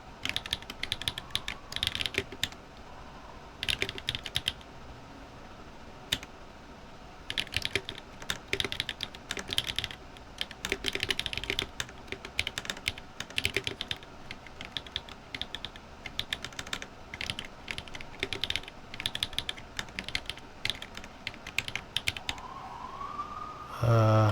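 Keycaps are pried off a keyboard, making a string of sharp close clicks, taps and plastic snaps in irregular bursts, with short pauses between them and a faint bit of sound in the background.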